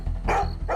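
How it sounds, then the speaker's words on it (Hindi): A dog barks loudly and close by, in two or three quick, deep, rough barks in under a second, with no talk over them. "वो ना जोर जोर से भौंक रहा था"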